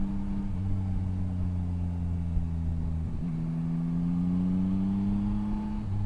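Yamaha Tracer 9 GT motorcycle engine pulling steadily on a road with the throttle twisted, a droning hum with a brief dip in pitch near the middle before it climbs again, continuous and close.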